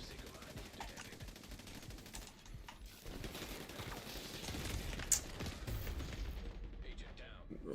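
Gunfire in the shooter game The Division 2 rattles in rapid bursts and sharp shots, with voices talking over the action.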